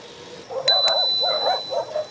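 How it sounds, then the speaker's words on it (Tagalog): Dogs barking at night on a mountain road during a solo bike ride, several short yapping barks at a moderate distance, with a bright bicycle bell ding near the start. "Dami ng aso"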